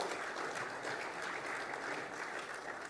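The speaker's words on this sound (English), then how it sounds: "But still, round of applause for Estonia." Steady, dense clapping from a large crowd at a FIBA Congress session, sustained and even for the whole stretch with no voices standing out.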